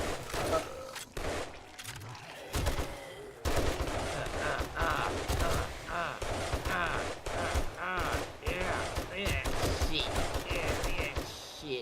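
Sustained automatic gunfire in the survival game 7 Days to Die, dense bursts of rapid shots slamming into targets, loud and continuous with brief pauses, mixed under players' voices.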